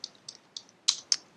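A handful of crisp computer keyboard keystrokes, five separate taps in quick irregular succession, close and fairly quiet, the last two sharper and louder.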